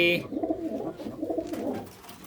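Domestic pigeons coo close and loud, a rolling, throaty burble in repeated waves with no voices over it.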